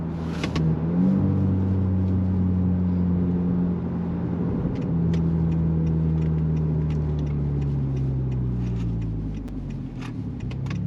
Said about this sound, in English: Hear the turbo or the what's it called, the wastegate.